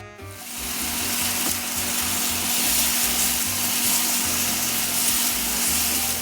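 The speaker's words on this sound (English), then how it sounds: "heat up the oil in my skillet, and we will saute it" Mahi-mahi fish fillets sauté in hot oil in a skillet, giving a steady, loud, close sizzle and crackle that runs unbroken with no talk.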